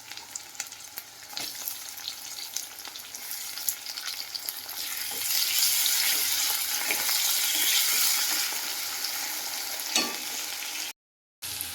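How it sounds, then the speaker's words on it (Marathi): Tomatoes fry with onion on a low flame in a steady close sizzle, broken by periodic stirring scrapes. The frying grows fuller midway and cuts out briefly near the end. "टॅमॅटो मंद आचेवर चांगला भाजून घेऊ"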